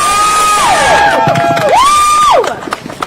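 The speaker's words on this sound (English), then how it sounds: "Give him a round of applause." A crowd at an outdoor vigil cheers, whoops and whistles loudly, with rising and falling whistle tones over dense crowd noise that thins out near the end.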